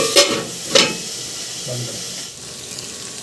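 Onions and chopped green chillies fry in a pan as they turn brown. Two sharp bursts of stirring sizzle come early, then a softer, steady crackle continues alone.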